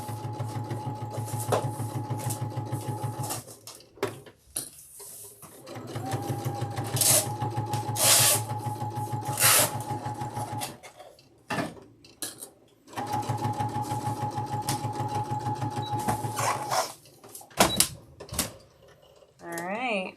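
A simple domestic sewing machine, used without a walking foot, stitches rows of a T-shirt quilt in steady rapid bursts with short pauses between them, running close and loud while a person talks over parts of it.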